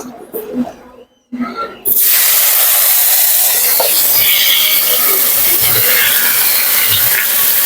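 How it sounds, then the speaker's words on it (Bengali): Taro stolons hit hot oil partway through, bursting into a loud, dense, steady hiss of frying that continues to the end after a quieter opening with a brief voice. "এই তেলে আমি এই কচুর লতিগুলো ভেজে নেব"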